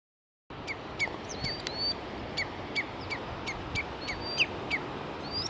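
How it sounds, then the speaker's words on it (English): Common redshank at Ayikule Reservoir, a northern Xinjiang wetland in early morning, giving repeated sharp piercing calls in a steady series over broad background ambience, with other birds faintly present. "This is the common redshank"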